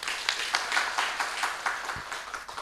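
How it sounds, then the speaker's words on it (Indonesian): Scattered audience clapping at an Indonesian roadshow event in Makassar, a thin, fairly quiet patter of hands with uneven rhythm and no voices over it. "kita kasih tepuk tangan dong."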